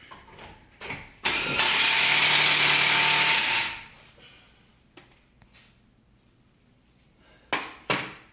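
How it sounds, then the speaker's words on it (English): A power tool whirs loudly for a couple of seconds, tightening the axles on a Hyundai after an engine swap, with short bursts before and after and quiet garage noise between them. "He's gonna go ahead and tighten up the axles real quick"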